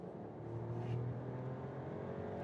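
A Mercedes E450 with a six-cylinder engine accelerates, heard from inside as a steady low engine drone that builds slightly and holds, fairly faint, with no one speaking.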